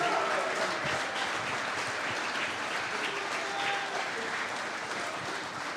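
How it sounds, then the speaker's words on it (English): An audience at a live club event gives a guest, a Packers defensive lineman, a steady, sustained round of applause, dense and even throughout with no talking over it. "how about a big round of applause for Superman Rashan Gary tonight."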